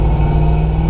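A cammed 6.2 LS V8 in a Jeep Wrangler JK with a 6L80 transmission rumbles loud and close, giving a deep, continuous throaty drone.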